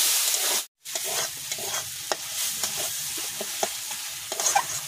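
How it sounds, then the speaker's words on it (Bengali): Spice paste of turmeric, chilli powder and a little water being stirred and fried in a pan, with steady sizzling and repeated scraping strokes of the spoon, close and continuous apart from a brief gap near the start. "এবার মশলাটা আমি কষাই করব ভালো করে।"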